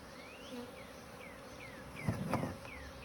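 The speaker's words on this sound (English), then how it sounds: "She's got some worker bees in there with her from her original hive." Honey bees in a package hum and buzz in a steady drone while being installed into a hive. Brief rising whines of individual bees fly past, and louder rustling follows near the end.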